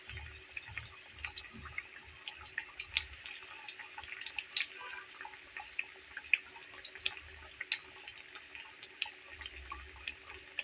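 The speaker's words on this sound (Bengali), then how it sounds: "আর ঠিক এইভাবেই আমি বাকি সবগুলো ভেজে নেব একদম ডুবো তেলে।" Flour snacks deep-fry in a pan of hot oil, producing a continuous fine sizzle with scattered crackles and pops at a close, moderate level, with no talk.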